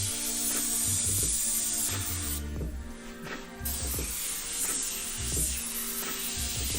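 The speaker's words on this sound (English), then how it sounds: "Come on, Airbrush. Do the thing." An airbrush spraying paint for graffiti gives a continuous hiss with a mechanical hum and clicking underneath, briefly dipping in the middle before resuming.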